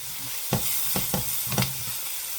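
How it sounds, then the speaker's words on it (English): Onions cook down with sugar in a pan, giving a continuous loud sizzle with four sharp stirring scrapes spaced about half a second apart, close up and without talk. "the sugar helps to caramelize our onions"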